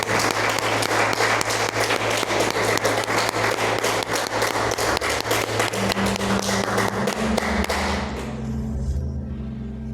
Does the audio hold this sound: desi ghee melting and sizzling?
no